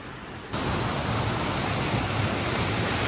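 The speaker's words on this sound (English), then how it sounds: "All that water sluicing through that narrow little chasm there." A steady, full roar of rushing water at a waterfall starts abruptly after a brief quieter moment and continues unbroken, pouring through a narrow chasm.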